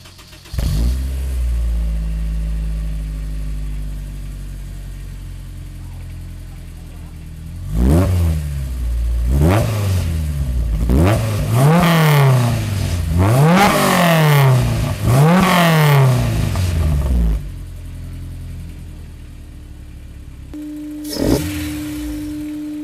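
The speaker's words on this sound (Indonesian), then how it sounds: "Kita dengar dulu suara knalpotnya" A Honda S2000 fitted with a J's Racing exhaust idles, then is revved repeatedly in sharp rising and falling blips, loud and close, settling back to idle before one last short rev.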